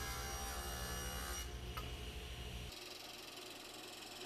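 A saw rips wood strips for cribbage board card dividers, a steady close cutting drone that drops off partway as the blade finishes the pass.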